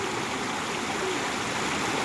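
Steady broadband rush of a stream or small waterfall at a swimming spot where children swim, continuous and fairly close, with no voices over it.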